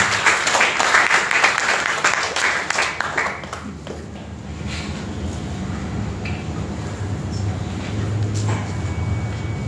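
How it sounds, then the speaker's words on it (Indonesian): A church congregation claps loudly together during a Sunday worship sermon, a dense burst for about four seconds that fades into a low room rumble and hum. "Kita berikan tepuk tangan bagi Tuhan."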